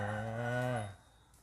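A fighting bull on a cattle farm lets out one long, deep moo close by, and it cuts off abruptly after about a second.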